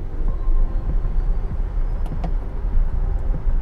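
A Volkswagen e-Crafter electric van pulls away, heard from inside as a steady low road and motor rumble with faint whine and a couple of small clicks and rattles.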